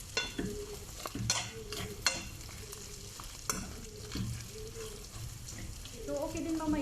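Chicken pastil mixture stirred in a frying pan, a steady sizzle under repeated scraping strokes of a utensil, close and fairly loud throughout.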